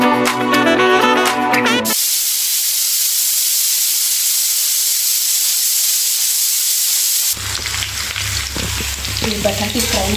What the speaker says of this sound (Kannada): ಈ ಬಟಾಟಿ ಫ್ರೈ ಮಾಡ್ಲಿಕ್ಕತ್ತೀನಿ